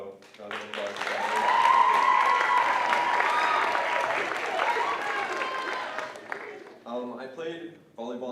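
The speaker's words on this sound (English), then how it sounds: "round of applause for" Applause from a banquet crowd at an awards ceremony, a dense steady clapping swell that builds in the first second, holds loud for several seconds, then fades as a voice resumes speaking near the end.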